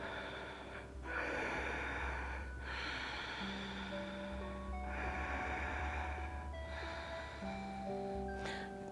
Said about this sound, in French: Longue respiration.